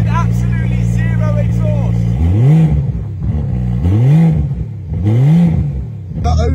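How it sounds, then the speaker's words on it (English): Straight-piped Rolls-Royce Wraith with a twin-turbo V12 and no exhaust muffling: a steady idle burble, then three loud, rising revs that swell and fall back in turn, close by, with crowd chatter underneath. "This is what Marcus Rashford's Rolls Royce Wraith sounds like straight piped. It's a V12 twin turbo"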